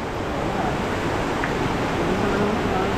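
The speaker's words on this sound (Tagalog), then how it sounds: "Huli, malakas yung agos." A strong water current rushes in a broad, steady roar, loud and close throughout, with faint voices barely emerging in the background.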